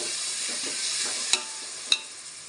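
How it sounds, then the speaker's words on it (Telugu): Washed raw chicken dropped into a hot pan with garam masala gives a steady broad sizzle, punctuated by two sharp clicks of a utensil against the pan, with no talking. "మనం కడిగి పెట్టుకున్న చికెన్ కూడా వేసేస్తానండి ఇందులోనే"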